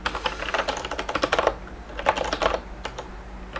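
Quick bursts of clicky typing on a computer keyboard during a Rust coding session, close and clear, with brief pauses between runs of keystrokes.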